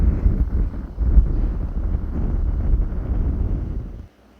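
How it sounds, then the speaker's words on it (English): A strong, freezing wind blows at Yamdrok Lake in Tibet, roaring steadily and buffeting the microphone in loud gusts before cutting off abruptly near the end. "Can you hear the wind? It's so strong."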